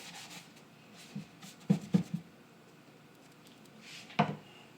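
Wax being rubbed by hand onto a chalk-painted dresser gives soft, close brushing and rubbing strokes, with a few louder scuffs near the middle and end against a quiet room.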